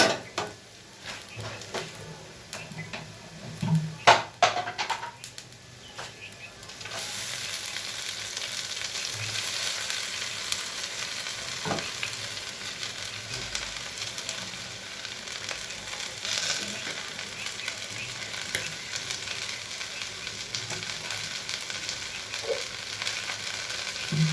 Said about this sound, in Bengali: পেঁয়াজটা ভাজা হয়ে গেছে শাকটা দিয়ে দিই এবার